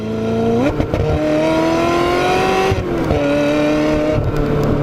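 Ferrari 355 Spider convertible driving through a tunnel: a loud, close engine note rising through the revs, dipping at a gear change and climbing again, with the sound boomy and reverberant inside the tunnel.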